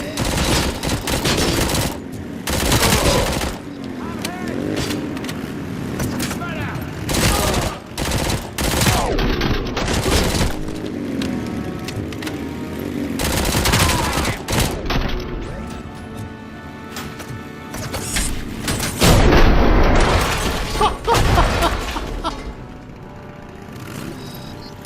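Micro SMG fire in Robocop: Rogue City, loud rapid bursts of automatic gunfire repeating in clusters across the stretch, mixed with crashing impacts and mechanical clatter.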